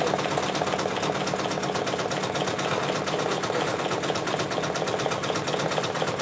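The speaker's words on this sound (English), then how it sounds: "We are stitching out some crisp brown, aka crisp grease patches." A Brother Persona PRS100 embroidery machine stitches out brown patches, its rapid needle chatter running steadily and evenly throughout at close range, with no pauses or voices.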